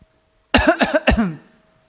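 A person coughs close up, about four quick, hacking bursts in a row, then fading out.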